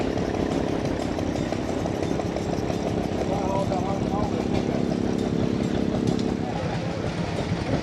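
Old engine chugging steadily and loudly at a classic tractor show in Evansville, Indiana, a continuous rough mechanical rumble with rapid firing pulses, close by, with a voice talking over it.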